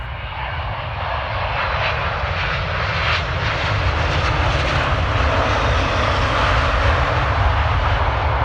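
Close and loud, an airplane roars down the runway at Manchester Airport during takeoff with a steady, powerful engine rumble that holds for the whole stretch and builds slightly toward the end.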